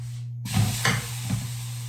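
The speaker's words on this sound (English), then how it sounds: "I'm gonna go ahead and brown this piece of meat" Beef searing in a hot roasting pan, with a soft sizzle rising as the meat meets the surface and a few scraping stirs over a steady low hum.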